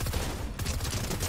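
Rapid SMG fire in Fortnite, a dense sustained burst of shots rattling through the full clip with a brief dip midway, loud and continuous.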